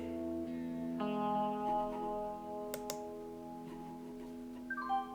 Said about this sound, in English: hear that little sound and think, oh, you beauty, our booking's arrived